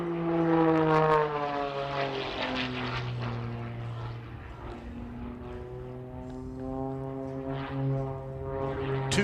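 A propeller aerobatic plane at an air show holds a steady, droning engine with sliding harmonic pitch that rises and falls as it flies its maneuvers, loud and continuous throughout.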